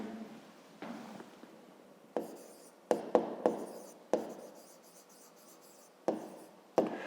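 Pen or pencil writing out a fifth-grade math solution on paper, with a series of distinct scratchy strokes and taps at irregular intervals, close and fairly quiet, no voices.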